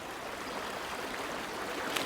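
Shallow, fast-flowing stream water rushing over its bed in spring, a steady broadband wash with bright splashy texture, close and uninterrupted without talk.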